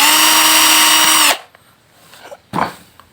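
A loud electric drill whirs steadily for over a second, then stops, followed by a couple of faint clatters and a short rustle.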